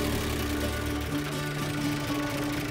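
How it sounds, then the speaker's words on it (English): The engine of a remote-controlled tractor runs with a steady hum, then its note drops abruptly about a second in and settles into a lower idle, continuous and close. "When the signal is lost, the RPM instantly drops to idle."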